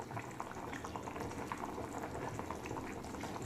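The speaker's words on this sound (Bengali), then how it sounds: "মাছের ঝোল একদম ফুটে গেছে, গ্যাসটা সিম করে দিলাম" Fish curry broth of shol fish boils hard in a pot on a gas stove, a steady close bubbling and popping that runs on without a break.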